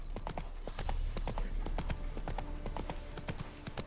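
Hooves of Roach, a horse in The Witcher 3: Wild Hunt – Hearts of Stone, galloping in a quick, steady clip-clop over a continuous low rumble of game ambience, near and clear.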